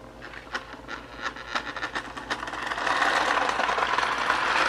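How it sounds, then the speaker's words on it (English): A vintage Ives 1122 toy train locomotive from around 1929 to 1930, with worn motor brushes, runs nearby. It makes a low motor hum with scattered clicks and rattles that build into a steadier, louder whirring buzz. "Runs pretty good for a vintage locomotive."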